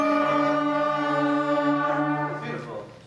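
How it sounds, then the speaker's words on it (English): An elementary school band's B line sustains its first note together, a steady, loud chord of brass and wind tones held for about three seconds and tapering slightly at the end. "We hear the people that are playing the B line just hold their first note."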